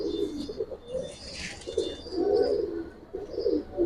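Giribaz pigeons coo in soft, repeated low calls, several overlapping bursts close by with a faint higher chirp in the background.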